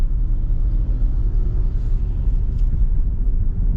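A car drives along a coastal road in Phuket, Thailand, between Patong and Kamala beaches, giving a steady, close low rumble of engine and tires with no one talking.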